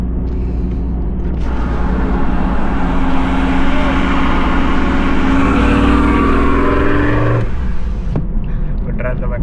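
A car engine revs loudly and continuously for several seconds, a sustained racing-style roar with a rising tone toward the end. It is heard on a street in Australia, with speech present in the background.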